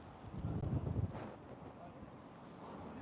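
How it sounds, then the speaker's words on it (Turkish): Steady wind buffets the microphone with a low, rumbling roar that gusts harder early on, then settles into a constant blustery hiss. "Çok rüzgarlı ve soğuk."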